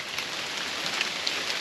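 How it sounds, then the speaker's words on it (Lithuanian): Light rain falling steadily as a soft, even hiss with a few scattered drop ticks, continuous and close, with no voices. "Kaip ir į pabaigą lietutis."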